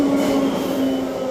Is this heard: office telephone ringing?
no